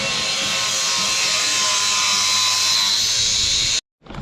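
A flap wheel on a power grinder works the metal frame of a mini sport quad to clean it for welding, producing a steady, loud, high whine for almost four seconds before cutting off abruptly.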